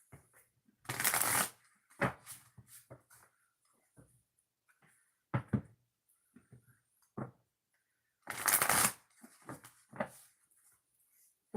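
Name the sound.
shuffling cards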